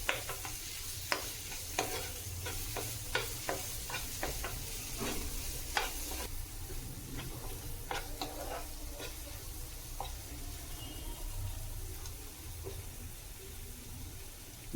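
Red masala paste for a spicy dried bangda mackerel chutney is stirred in a pan, giving steady scraping strokes over a constant soft sizzle, close and moderately quiet.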